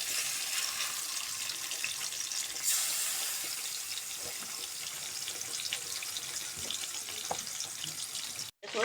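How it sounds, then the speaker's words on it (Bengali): Tuna fish frying in a pan, a continuous hissing sizzle with faint crackles held at an even level throughout, close by and with no talking, briefly cut off near the end. "আমি এখন মাছটা ভেজে নেব"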